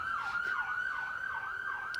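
Ambulance siren sound effect wailing steadily up and down in a rapid repeating sweep, loud and continuous throughout with no talk.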